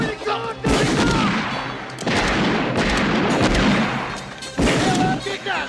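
Gunfire erupts in a western film shootout, several sustained bursts of shots and booms in loud waves, with a brief lull between them, layered with shouting voices and crashing sounds.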